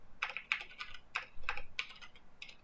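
Quick bursts of typing on a computer keyboard, clustered key clicks in an uneven rhythm, close and fairly quiet with no talking.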